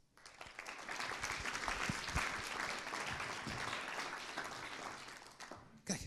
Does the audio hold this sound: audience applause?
yes